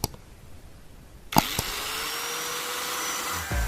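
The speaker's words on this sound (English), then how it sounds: "Cut the bucket along the guideline you've marked using an electric angle grinder." An electric angle grinder spins up and runs steadily as it cuts through a plastic paint bucket, a sharp start followed by a sustained whine, close and loud with no voices.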